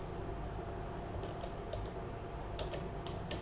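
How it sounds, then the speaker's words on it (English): Faint keystrokes on a computer keyboard tap sparsely at close range, a few scattered clicks and a short cluster near the end, over a steady hiss with no talking. "I'm typing as I'm talking to you"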